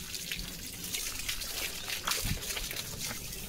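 Water splashes and trickles during a dog's bath while shampoo is being rinsed, a soft continuous patter with brief splashes throughout and no clear talking.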